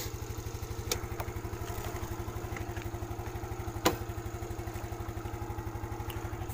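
A motorcycle engine idles steadily up close, a fast even low-pitched putter with a light mechanical clatter and one brief knock partway through, and no talk.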